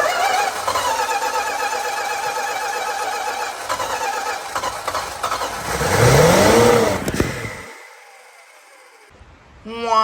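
A 1965 Plymouth Barracuda with a 273 V8 and four-speed cranks, its starter whirring rhythmically. The engine sputters and briefly catches into a rough rev before cutting out to near silence, then the cranking resumes.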